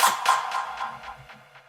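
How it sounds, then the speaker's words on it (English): Snare drum hits wash out into long reverb tails from the Valhalla Supermassive plugin, a quick series of about seven bright swishing hits, each decaying into a diffuse airy wash that gets softer toward the end. "So we can get these little snare washouts"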